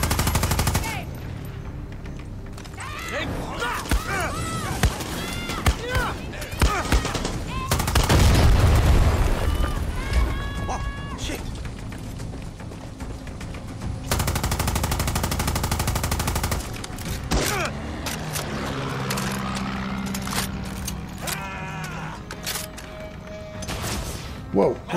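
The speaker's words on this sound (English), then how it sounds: "Oh, this does more damage than my light minigun." Minigun fire in the video game Far Cry 6 roars in sustained, loud bursts mixed with booms and crashes, while someone talks over the gunfire.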